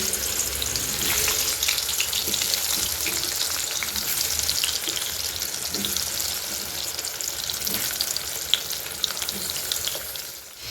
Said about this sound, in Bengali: তারপরে আমি এবার আলুটা ভেজে নেবো কড়াইয়ে।